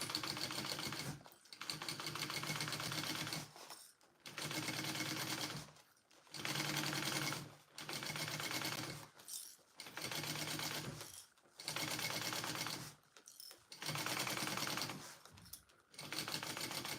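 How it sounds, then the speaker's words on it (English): A domestic sewing machine stitches a tote bag in repeated bursts of rapid rattling needle strokes, each run a couple of seconds long and separated by short pauses, with a faint clatter from the bobbin case. "I hear my bobbin case. I think I need a new bobbin."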